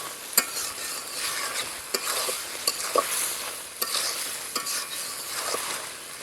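Ash gourd fries with ground cumin in a pan, giving a soft, continuous sizzle close by. Scattered clicks and scrapes come from a spatula stirring.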